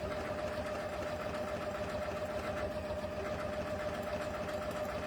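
A CM17 sewing machine stitching a decorative mirage-stitch border along a fabric edge, a steady fast mechanical hum and rapid needle chatter running throughout, close up, no talk.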